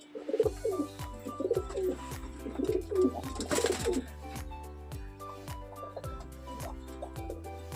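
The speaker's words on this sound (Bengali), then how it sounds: "ভীষণ এগ্রেসিভ পায়রা" Aggressive pet pigeons cooing in a loft with nesting pairs and chicks, a steady run of repeated low rolling coos close by, several birds overlapping in rhythmic phrases.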